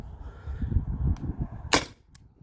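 A T4E TR68 .68 caliber home defense launcher fires a 9.9 gram riot ball, producing one sharp, close pop after some low handling rumble, followed by a faint brief click.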